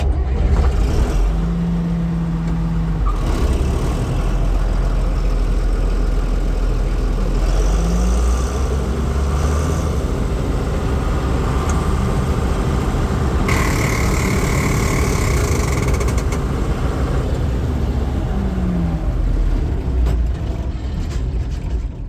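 An abandoned combine harvester's diesel engine running steadily and loudly close by, a dense mechanical drone with clattering machinery and a few rises in pitch, no speech.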